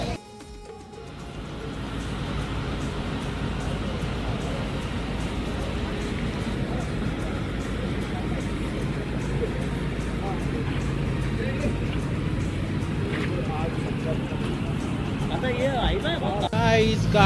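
Ferry boat engine running while carrying loaded cars, a loud steady low rumble and drone that continues throughout, with a voice talking over it.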